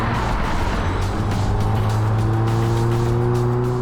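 A 2021 Volkswagen Golf R hot hatch accelerates hard and corners, its engine note climbing steadily through the revs with a loud, close, continuous roar and road and tyre noise underneath. No one speaks over it.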